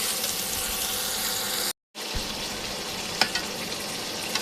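Radish stir-fried in a pan, giving a dense, steady frying hiss that breaks off for a moment and then resumes, with a few soft scrapes of stirring, close and moderately loud.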